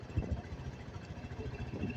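A Rusi RFI175 v4 motorcycle engine idles steadily, a low, even rumble with a regular pulsing beat heard close by and alone.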